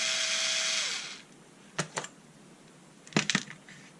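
A Bosch Ixo cordless screwdriver on its lowest torque setting whirs briefly with a rising motor whine, then falls quiet before two pairs of short, sharp clicks and rattles as screws come out.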